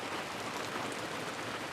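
Rain falling at Waimea Valley, a faint, even hiss of drops pattering on surfaces, steady and unbroken for the whole short stretch.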